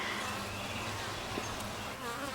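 Honey bees crawl over a hive frame during an inspection, a dense, continuous buzzing hum of many bees at close range, with no voices.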